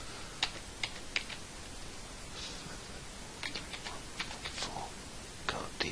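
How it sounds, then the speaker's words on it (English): Fingers tap out a command on a computer keyboard in short, uneven bursts of crisp keystrokes, close and fairly quiet, with brief pauses between clusters over a low background hiss. "I will go and unignore him by typing the command /unignore"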